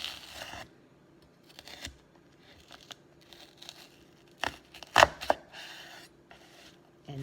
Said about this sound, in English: I'm going to go down using the tip of my knife to slice through.